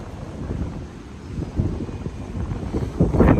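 Wind buffets a handheld microphone on a downtown Toronto street walk, a steady low rumble of gusts that swells louder toward the end, with no voices.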